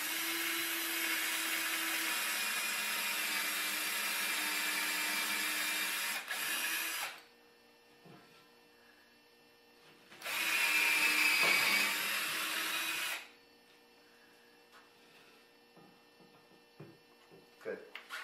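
A power drill drives bolts through the pre-drilled holes of a pull-up bar into a ceiling stud, whirring in two loud sustained bursts separated by a pause, with quiet shuffling between and after.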